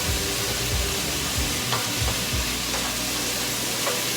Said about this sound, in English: So we're just going to get this sauteed here.